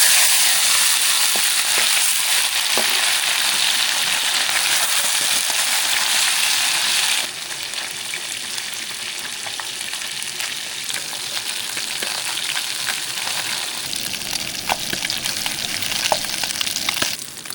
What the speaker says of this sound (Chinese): 现在把鱼煎一下。